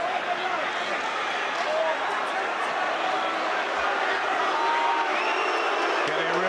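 Boxing arena crowd at a grudge fight roaring and rallying as one fighter presses in, a dense, continuous wall of cheering and shouting that stays loud throughout.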